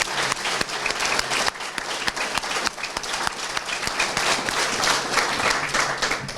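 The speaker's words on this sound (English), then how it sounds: "let's give one more round of applause to everyone that's joining the force." Applause rings out for new recruits at a sheriff's office swearing-in ceremony, loud continuous clapping from a sizable audience that carries on without a break for over six seconds.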